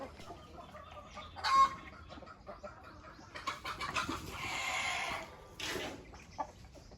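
Chickens clucking and calling in a rural yard, scattered short clucks at moderate distance with some louder bursts, no one speaking.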